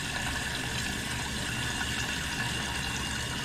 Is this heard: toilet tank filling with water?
yes